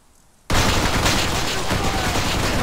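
Dense, loud machine gun fire in ARMA 3 erupts suddenly after a brief quiet moment and continues as a steady, unbroken roar of rapid shots to the end.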